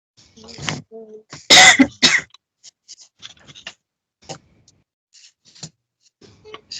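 A person coughs hard a few times up close, in loud harsh bursts, followed by faint clicks and small rustles in an otherwise quiet room.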